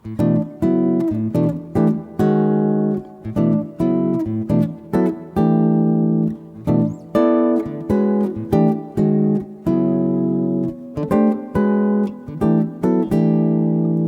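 A clean guitar plays a plucked melody harmonized in fourths, each note struck as a dense, clashing chord, with a steady rhythm and some notes left ringing, no voices.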